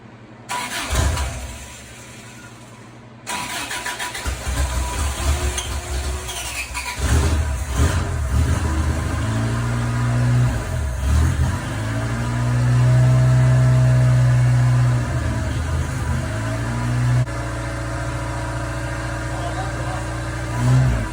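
A Ford GPW WW2 Jeep with a homemade carburetor cranks, squeals and catches, then runs and revs unevenly up close while people talk around it.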